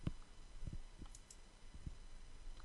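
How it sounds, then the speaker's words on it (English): A computer mouse clicks on checkboxes and buttons in a quiet room, making about half a dozen soft, separate clicks at uneven intervals with no talking. "checking the checkboxes and clicking the Select User,"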